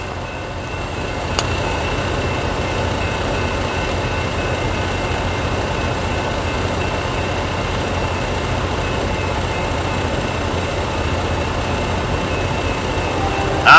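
A westbound freight train rolls past a gated rail crossing in Friona, Texas, a steady loud rumble and clatter of wagons sustained throughout with no break.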